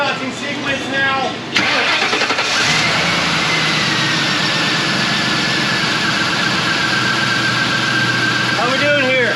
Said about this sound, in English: Beginning engine starting sequence now.